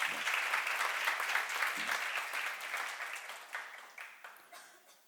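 A congregation applauding steadily at a church seminar, dense clapping that gradually thins and fades toward the end.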